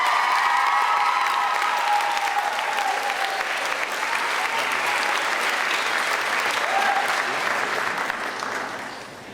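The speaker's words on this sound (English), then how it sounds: "how about a round of applause?" Middle school graduation audience applauding an award recipient, dense sustained clapping from a large crowd that holds steady and tapers off slightly at the end, with no talking over it.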